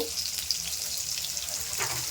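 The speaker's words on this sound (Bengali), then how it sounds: "এই বেগুনগুলো এখন দিয়ে দেবো ভেজে নেব" Long strips of eggplant sizzle steadily in hot oil, fried for a mustard hilsa fish curry; a dense, even crackle runs throughout with a brief louder burst near the end, no voices.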